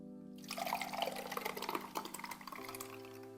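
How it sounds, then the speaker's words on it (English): Egg mixture for smoked sardine egg bites is poured into a greased muffin tin, giving a soft continuous liquid splashing and dribbling for about two seconds, close and fairly quiet, with no talking. "we're gonna pour our mixture in here"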